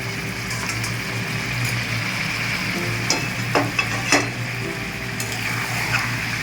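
A paste of ginger, garlic, green chili and raw peanuts sautéing in a pan gives a constant soft sizzle, with a few sharp spatula clinks and scrapes clustered in the middle.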